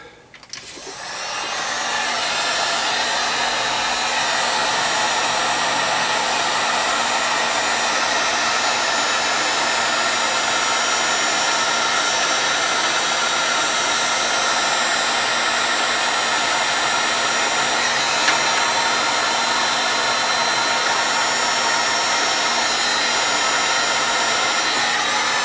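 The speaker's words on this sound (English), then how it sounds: "Okay, I got my heat gun here." A heat gun shrinks heat shrink tubing on a 70cm J-pole antenna, switched on with a click, then a loud, steady blowing roar that runs unbroken, close to the microphone.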